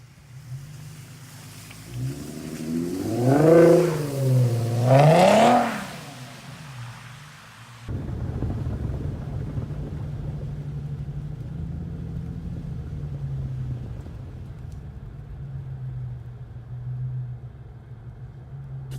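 An Infiniti Q50 3.7 drives in snow with its wheels spinning, its engine revving in two rising, wavering bursts before settling into a steady low rumble that keeps on at a moderate level.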